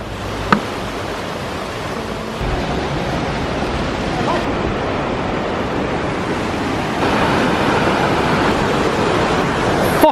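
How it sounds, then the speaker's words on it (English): Norwegian waterfall roars as a steady, loud broadband rush of falling water, continuous throughout and growing slightly stronger partway through, with no voices over it. "Fossen in Norwegian, waterfall."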